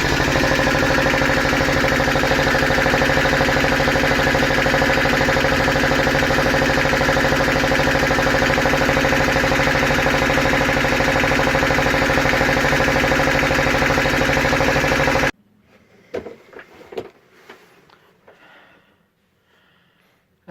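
The inboard engine of a Marcon Tomahawk 25 sailboat idles after a cold start with a loud, steady, rhythmic chugging drone. It cuts off abruptly near the end, leaving faint knocks and handling noises.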